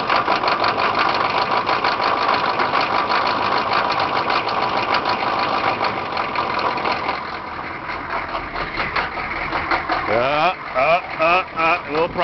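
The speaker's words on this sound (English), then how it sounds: "Crank her up." Cold diesel engine in winter cranking after glow plugs are heated, then catching and running with a rough, loud, steady clatter that settles into an uneven idle, close by.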